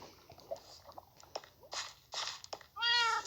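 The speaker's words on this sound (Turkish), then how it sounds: "Kedim benim ya." Cat meowing in a video game, several short meows scattered among soft clicks and rustles, ending in a longer, louder drawn-out meow.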